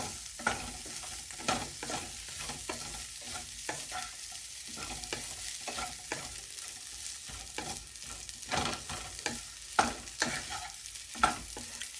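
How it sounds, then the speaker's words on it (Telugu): Idli pieces frying with masala in a pan while being stirred, a steady soft sizzle broken by repeated scraping and clattering strokes of the spoon, close and moderately loud, no voices. "కొంచెం ఫ్రై అవ్వనివ్వాలి అప్పుడు ఇడ్లీకి కొంచెం మసాలా పట్టిద్ది అన్నమాట"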